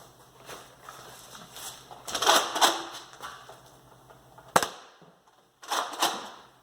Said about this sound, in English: there I was shooting it with the Nerf